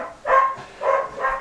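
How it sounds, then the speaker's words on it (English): A dog barks three times in quick succession, loud and near, with short gaps between the yaps. "She has a dog, Mrs. Vernican."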